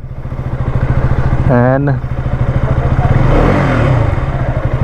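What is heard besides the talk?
KTM RC 200 GP Edition motorcycle engine idling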